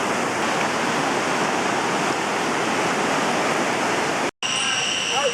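Cold rainforest river water rushes in a loud, constant roar, close and unbroken, with a brief cut near the end before the flow resumes with some faint higher tones over it.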